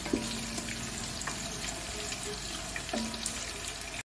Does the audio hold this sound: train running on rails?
no